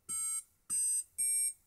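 Homemade penny organ built with coins and an Arduino sounds three clear electronic beeping notes in a short sequence, each held briefly with gaps between, close and alone.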